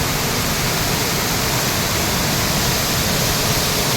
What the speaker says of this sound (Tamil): ரொம்ப சூப்பரான அருவி